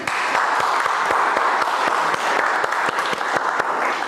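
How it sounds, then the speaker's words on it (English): Dense applause from a workshop audience fills the room, many hands clapping steadily and loudly with no talk over it. "Round of applause."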